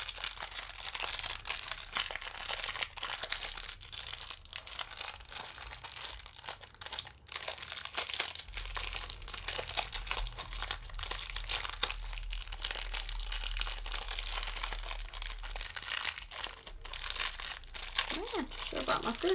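Plastic packaging around small washi tape rolls crinkles and crumples steadily up close as it is worked open, a continuous rustling texture with a person speaking briefly over it.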